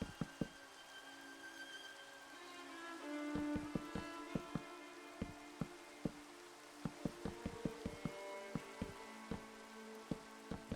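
Rain falling in a video game, a steady soft patter with sharp individual drops ticking and knocking irregularly throughout, fairly quiet and without talk.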